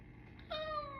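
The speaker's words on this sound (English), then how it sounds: "I heard my cat." A domestic cat lets out a single short, rising meow at middle distance over a steady background hum, with no voices.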